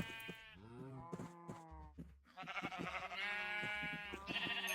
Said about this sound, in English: And then let's feed the sheep.